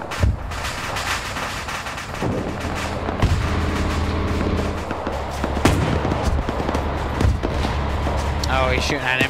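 Constant WW2 gunfire and booming artillery fill a World War II video game battle, with sharp reports and heavy thumps over a steady low rumble. A voice can be heard faintly in the mix.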